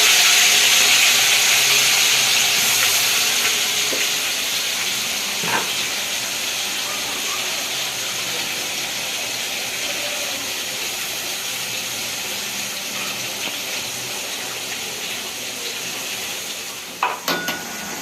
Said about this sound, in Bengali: মিক্সারের মশলাটা এখন দিচ্ছে দিয়ে দিলে ফট ফট ফট ফট ফট ফট ফট ফট করে ফুটছে ফুটছে পটাক পটাক পটাক করে